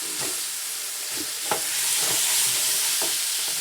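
Hamburger meat frying in a pan is broken up with a utensil, steady sizzling under several sharp scraping and stirring strokes, close and fairly loud.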